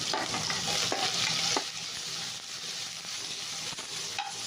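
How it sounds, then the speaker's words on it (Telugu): Onion is stirred in a hot pan for egg curry, with a dense, close sizzle and repeated spatula scraping and tapping throughout and nobody speaking. "ఆనియన్ కూడా వేసేస్తున్నాము"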